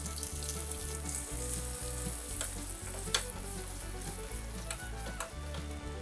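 Pieces of boiled chicken frying in hot oil in a pan, a busy crackling sizzle with occasional stirring clatter and sharp pops, close and continuous with no voices.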